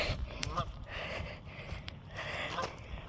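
Several geese honk repeatedly at a moderate distance as they fly away, irregular calls overlapping against an outdoor background.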